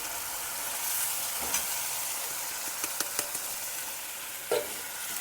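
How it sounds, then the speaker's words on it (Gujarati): Horse gram curry cooked with chili is mixed in a pan, a steady soft sizzle broken by a few sharp spoon scrapes and taps at uneven intervals. "જો કળથી આ રીતની મિક્સ કરીને આ રીતની હલાવવાની"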